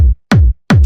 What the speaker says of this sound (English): this is my kick punch